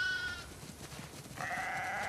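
Sheep in The Last of Us Part II bleat in a farm scene, one call near the start and a longer one toward the end, over a steady low ambient bed.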